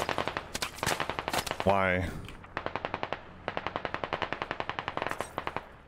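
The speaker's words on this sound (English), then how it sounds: "I hear shots sinking down here." Automatic gunfire rattles in a military video game, with long, rapid, loud bursts broken by a brief rising tone, and a voice speaks once.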